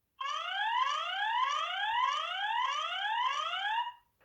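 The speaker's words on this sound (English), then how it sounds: "Every time it picks the motion up, the siren will go off as well." A loud electronic siren from an AOQEE C1 Wi-Fi security camera wails in rapid repeating upward sweeps for several seconds, then cuts off abruptly.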